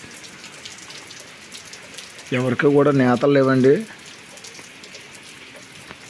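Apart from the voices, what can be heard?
rain falling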